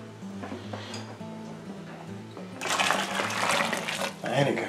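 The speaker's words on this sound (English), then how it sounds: "This is the last 3 litres of boiling water." Boiling water pours into a beer kit fermenter already holding some water, a loud broadband rush that starts partway through and continues steadily to the end, with a low background hum beforehand.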